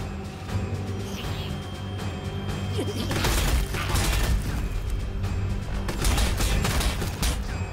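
Rapid gunfire and explosive crashes from a battle against orcs in the strategy game Sanctus Reach: The Sons of Cadia, building into dense, loud bursts of overlapping shots and impacts.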